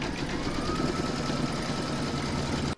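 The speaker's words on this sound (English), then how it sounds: "I'll now pop that into my machine and stitch round number 9, and that's going to secure my fabric" An embroidery machine stitches round number 9 of in-the-hoop bunting, a steady rapid mechanical chatter with a regular pulsing rhythm, close and constant.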